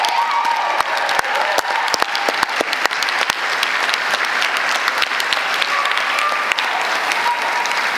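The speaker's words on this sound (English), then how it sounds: "Can we give them another round of applause?" A school board meeting audience applauds steadily and fairly close, with dense clapping that holds throughout and no talk over it.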